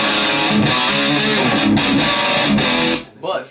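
A loud, heavily distorted electric guitar through a Kemper amp profile rings out with sustained chords, then cuts off abruptly. A short burst of voice follows.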